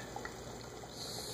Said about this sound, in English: we have the beignets, they're frying in here.